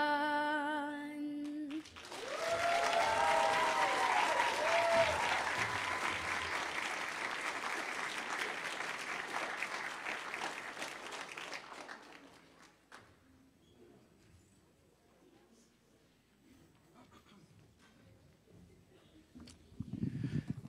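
An audience applauds an anthem singer at a Black History Month celebration, sustained clapping from a crowd that swells after a sung note, then tapers off into quiet murmur.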